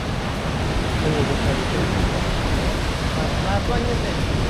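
Ocean waves crash and break on the shore in Iceland, a constant loud roar of surf and wind noise.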